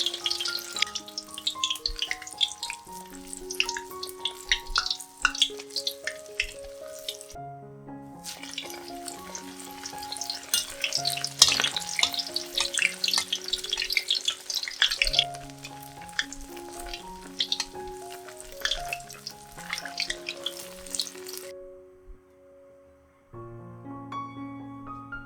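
Enoki mushroom rolls frying in hot oil, a soft sizzle under gentle background music, fading out near the end with a short silence before the music returns.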